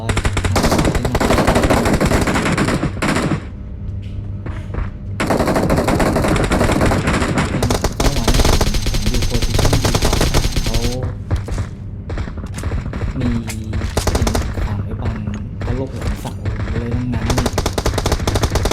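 Rapid automatic gunfire crackles loud and near in PUBG Mobile during an airdrop fight at Mylta, bursts repeating almost without pause, with a voice faintly under it at times.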